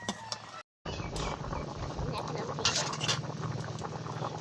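Food bubbling in a pot over a village cooking fire, a steady dense boil with faint clinks of utensils against the pan, one brief dropout near the start and no talk.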